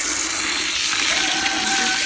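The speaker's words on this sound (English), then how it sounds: "Just adding the water." Water poured into a container of fermenting chicken feed, a steady splashing, rushing flow running close by for a couple of seconds, with no voices.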